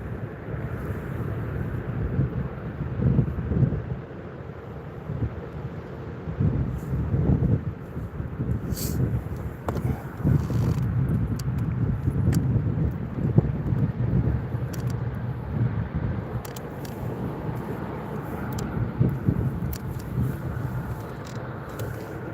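Wind gusts buffet the microphone out on the water during kayak fishing, a steady low rumbling roar with rising and falling bursts over a lengthy stretch, no voices present.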